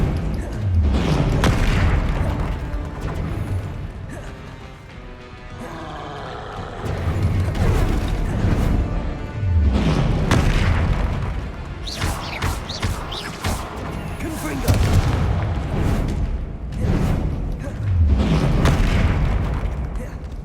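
Confringo blasts in Hogwarts Legacy combat land as a string of heavy, booming explosions and crashes, roughly every few seconds, loud and close amid the clatter of battle sounds.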